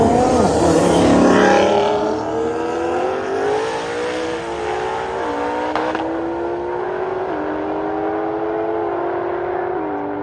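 Race cars launching side by side in a roll race, a loud roaring engine surge that climbs and shifts through rising pitches as the cars pull away and fade slightly.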